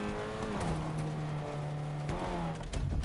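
A car driven in the Fortnite video game, with a steady engine drone that shifts pitch as it revs and accelerates, loud and continuous, with no talking.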